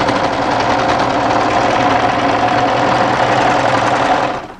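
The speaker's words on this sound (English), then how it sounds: "just let the overlocker cut off the previous overlocking thread" An overlocker sews and trims the sleeve seams of a wrap cardigan. It runs close and loud in one continuous buzzing burst before cutting off at the very end, with no voices.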